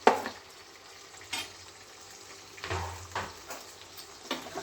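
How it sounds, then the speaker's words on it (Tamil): Brinjal pieces frying in a pan for kara kuzhambu, a soft steady sizzle broken by several scraping stir strokes and clatters of the spoon against the pan, close and moderately quiet, with no talking. "கத்திரிக்காய் நல்லா வணங்கிட்டு நல்லா கிளறி விட்டுக்கோங்க."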